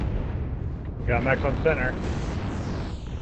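Artillery strike explosions from the mech combat game MechWarrior Online rumble as a dense, continuous roar, with a voice talking briefly over the blasts.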